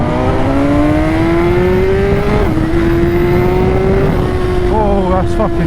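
A motorcycle launches at full throttle, its engine note climbing steadily through a gear change, loud and close over constant rumble and wind, with a voice briefly exclaiming near the end.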